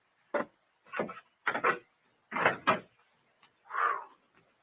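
Wooden creaks and knocks from a door opening in an old-time radio horror drama come in several short separate bursts, close and dry, followed by a longer groan.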